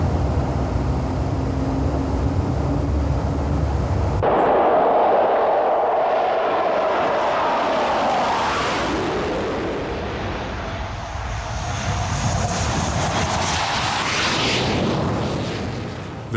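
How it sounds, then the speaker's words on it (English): A Hawker Hunter jet engine starts up as the aircraft is towed out of its rock shelter during a Swiss Air Force scramble. A low rumble gives way to a loud, swelling roar and whine that holds steady to the end. "the aeroplane is pulled out of the shelter and the engine is started during the tow"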